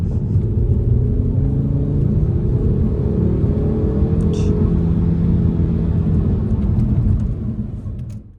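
Engine of a 2007 Volvo S40 2.4i running at about 2000 rpm while driving, a steady, loud low droning rumble heard from inside the car, easing off slightly near the end.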